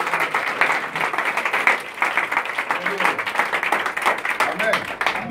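A congregation at a French-language church service applauds and cheers for Jesus, with steady, dense clapping that runs unbroken throughout and raised voices mixed into it.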